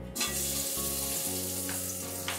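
Whole spices, including green cardamom, cinnamon, cloves, a little nutmeg and bay leaves, sizzle in hot oil for a vegetarian aloo dum, a close bright frying hiss over a low steady hum, with small crackles.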